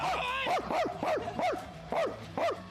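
IShowSpeed imitates a dog, letting out a series of short, rising-and-falling barks in an irregular rhythm, close and fairly loud.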